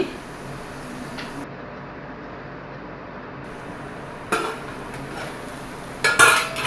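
Meal maker with capsicum and cashews being stirred in a pan, then the lid set back on: quiet background, a brief scrape, then a few sharp metallic clinks near the end.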